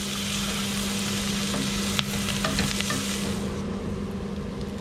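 Onions and peppers for chili fry in a pan with a steady, close sizzle, broken by a few brief stirring scrapes and clicks.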